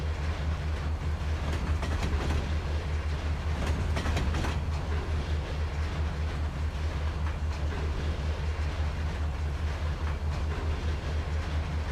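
A long intermodal unit train in the Trainz 2022 railroad simulator rolls steadily along the rails, with a constant deep rumble and a faint clickety-clack that continue evenly and loudly from start to finish.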